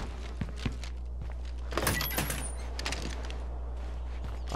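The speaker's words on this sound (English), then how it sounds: "Why did I open the door?" A door opening in State of Decay 2: thuds and clattering knocks with a brief louder rattle in the middle, over a steady low hum.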